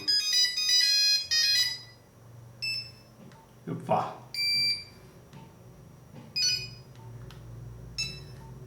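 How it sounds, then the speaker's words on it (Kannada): A Nokia 3310 ringtone plays its familiar melodic phrase in bright electronic notes, repeating in short bursts, while a voice speaks briefly in between. "ರಿಂಗ್ ಟೋನಿಗೆ ಬಂತು ಅಂದರೆ ನೋಕಿಯಾ ಟೋನ್ ಇರುತ್ತೆ"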